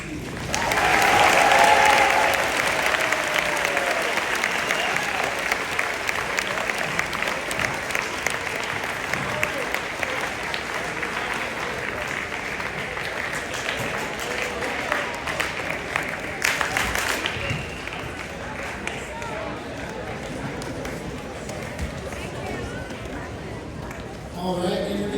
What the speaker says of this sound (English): let's give a round of applause to Oscar